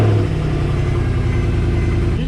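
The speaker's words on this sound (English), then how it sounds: "You know I gotta give you guys a quick startup, right?" Infiniti G35 with a VQ35DE V6 engine running steadily at a loud, close idle, with a low droning rumble and a slight dip near the end.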